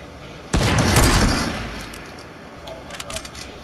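Sniper gunfire in a video game: a single sharp, loud shot bursts out and decays over about a second, followed by a quieter tail with faint clicks and distant scattered noises.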